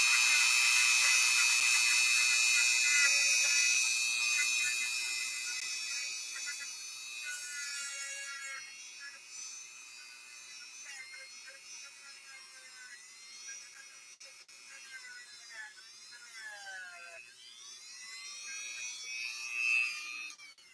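A Dremel rotary tool cleaning electrical contacts on a Kenmore 1755 sewing machine, giving a steady high-pitched whine that wavers in pitch as it bites, loud at first and easing somewhat, with no talking.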